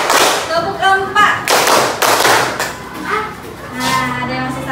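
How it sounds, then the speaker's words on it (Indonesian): A class of students claps together in short counted bursts, several loud broadband claps separated by brief gaps, with voices talking and calling out between them. "Tepuk 1, tepuk 2, tepuk 3, tepuk 4."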